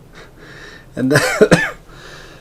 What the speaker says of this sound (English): oh damn, this cough